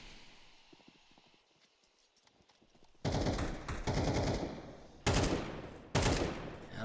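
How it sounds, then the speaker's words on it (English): Burst gunfire in a Counter-Strike match between mouz NXT and Endpoint, faint background game noise followed by three loud, close rapid-fire bursts, the first lasting about two seconds and the later ones shorter. "Little burst shots through the smoke."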